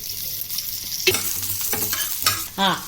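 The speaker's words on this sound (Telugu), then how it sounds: "ఇప్పుడు కొన్ని ఉల్లిపాయలు వేసుకుందామండి, సగము. కొద్దిగా ఆయిల్ వేసుకుందామండి." Sliced onions frying in a little oil in a pan, a steady sizzle broken by several scraping stirs and a few sharp utensil knocks, close and alone.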